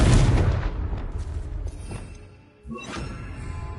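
The Confringo fire spell in Hogwarts Legacy explodes at once in a loud, deep boom that rumbles away, followed by a second, smaller crashing impact.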